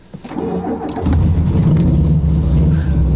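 A car engine cranks and fires up after a second, then runs with a loud, rumbling exhaust needing repair, revving steadily up close.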